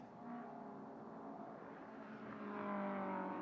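An Alfa Romeo race car rejoins the circuit from the pit lane during a historic endurance race session, a steady engine drone that swells a little louder toward the end, with no voices.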